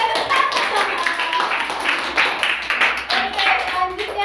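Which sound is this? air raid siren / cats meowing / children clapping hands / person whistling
children clapping hands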